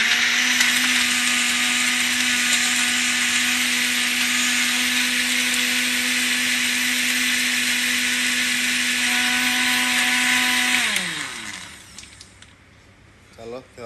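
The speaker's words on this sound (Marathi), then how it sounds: "तो ब्लेंडर चालू मारता" A kitchen blender whirs steadily while mixing a raspberry and vanilla milkshake with milk and nuts, a loud constant high-pitched drone that winds down to a stop near the end, followed by light handling noises.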